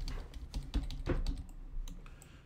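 Cards from the Bloodborne board game flipped and shuffled by hand on a table, a quick close run of soft clicking, riffling taps lasting a couple of seconds.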